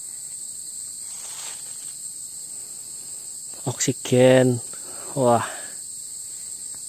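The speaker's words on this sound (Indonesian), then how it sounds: "Suara jangkrik" Crickets chirp in a cool mountain forest on Mount Lawu, a steady high-pitched insect drone running through the whole stretch while someone speaks briefly and exclaims near the end.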